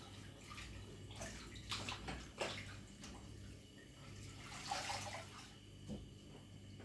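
Running tap water splashes over hands at a kitchen sink during Scotch egg preparation, a steady close hiss with louder surges as the hands move under the stream, heard alone without talk.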